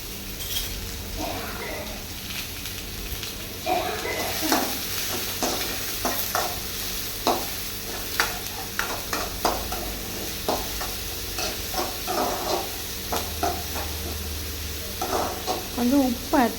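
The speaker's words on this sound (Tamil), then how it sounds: "அதுக்கப்புறம் நம்ம கட் பண்ணி வச்சுருக்க வெங்காயத்தை அதில் சேர்த்துக்கோங்க. சேர்த்து அதை கொஞ்சம் வதக்கிக்கோங்க" Chopped onions sautéing in a pan for soya chunk gravy: a continuous sizzle under repeated scraping and clinking of a spoon against the pan, with someone talking throughout.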